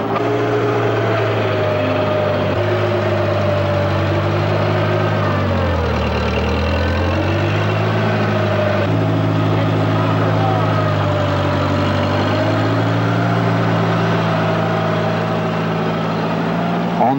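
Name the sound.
forklift engine running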